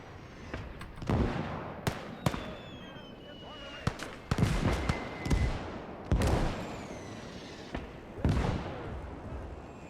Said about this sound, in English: The exploding buildings is really cool.